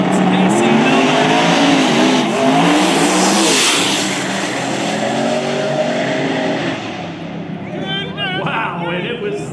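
A drag racing car launches hard at Lake Cumberland Dragway, its engine loud and close with rising revs and tire squeal, then fading as it pulls away while an announcer talks over it.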